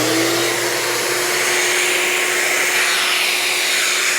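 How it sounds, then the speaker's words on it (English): Shop vac running as dust collection for wood sanding, a loud steady close whine and roar with a constant hum, no talk. "So I'm gonna go ahead and start my dust collection by turning on the shop vac."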